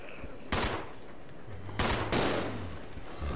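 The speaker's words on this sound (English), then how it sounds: "the computer playing as Billy will aim and shoot at zombies" Gunshots fired at zombies by Billy in Resident Evil 0, several sharp separate blasts spaced apart over low in-game ambience, loud and close.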